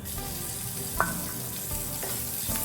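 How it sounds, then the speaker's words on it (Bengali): Steady, close sizzling of prawns frying in a pan with garlic, with a few clinks of a utensil against the pan and no talking. "রসুনটা একটু ভাজা ভাজা হয়ে যাক। এবার চিংড়ি মাছগুলো দিয়ে দেবো।"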